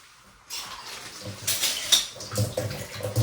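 Water splashing and dishes clinking as ingredients for crispy Telangana garelu are washed in a kitchen, with irregular close splashes and a few brief clinks, no talking.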